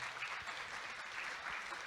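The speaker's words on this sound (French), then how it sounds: "On peut vous applaudir absolument." An audience at a regional conference applauds, a brief, fairly faint burst of many hands clapping steadily from a distance.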